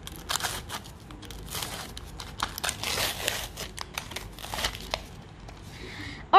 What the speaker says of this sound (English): let's just make a little tear strip and tear the whole thing